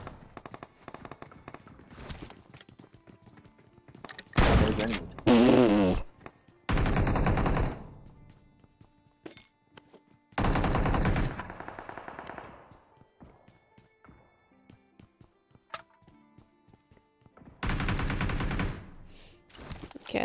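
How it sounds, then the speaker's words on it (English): PUBG Mobile gunfire arrives in several separate loud automatic bursts spread across the stretch, each a dense rattling volley, with quieter scattered shots and game noise in the gaps. "I'm getting shot at by somebody"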